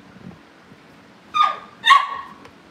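Cavalier puppies let out two close, sharp yips or barks in quick succession, with faint whimpering and quiet shuffling around them.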